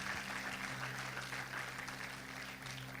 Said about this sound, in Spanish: Alguien puede darle ese aplauso al Señor en este día.